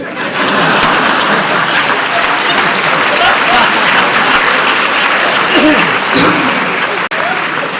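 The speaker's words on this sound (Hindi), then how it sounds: "जितनी तालियां बजा के आपने मेरा समय लिया है" A large audience at a public address applauds loudly and continuously, a thick sustained roar of clapping with crowd noise that barely dips for several seconds before a brief drop near the end.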